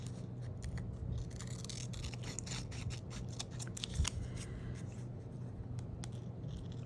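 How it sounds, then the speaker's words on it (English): Scissors snip around small paper tags cut from maps for a craft project, a run of quick, close, quiet cuts in an uneven rhythm. "we're just gonna fussy cut around our little tags here"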